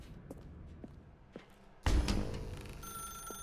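A telephone rings in The Stanley Parable, an electronic ring with steady harmonic tones that starts abruptly partway through and holds loud after quieter footstep-like sounds.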